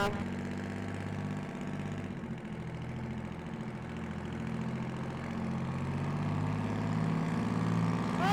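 A car engine runs steadily with a low, even idle rumble at an Australian outdoor festival with burnouts, continuous and close, with no talk.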